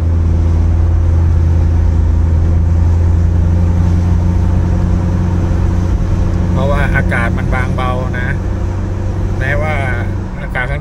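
An Isuzu engine drones loud and steady as it labours up a steep mountain road between Doi Luang Chiang Dao and Doi Ang Khang in Thailand, and someone talks over it in the second half.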